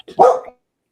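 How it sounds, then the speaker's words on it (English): A single sharp dog bark, close and loud, followed by silence. "Now I got this other dog up here barking."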